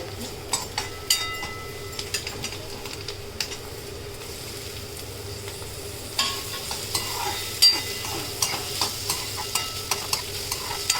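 Tomatoes sauté in a pan for a fresh cashew usal. A low sizzle runs under repeated scraping and tapping of a spatula, and the stirring grows brisker and louder in the second half. Nearby, with no speech.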